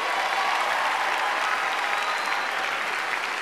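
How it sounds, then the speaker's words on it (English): Steady, sustained applause from a stand-up comedy audience fills the whole stretch, dense clapping at an even level with no talking over it. "Give her a big round of applause, everybody."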